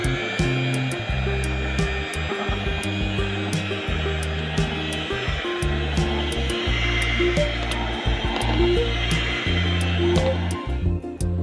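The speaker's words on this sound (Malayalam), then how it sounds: "ഇനി നമുക്ക് ബീറ്റർ കൊണ്ട് ഒന്ന് ബീറ്റ് ചെയ്ത് കൊടുക്കാം" An electric beater whirs continuously through plum cake batter, a close, steady motor drone with a shifting pitch as the beaters move through the mix.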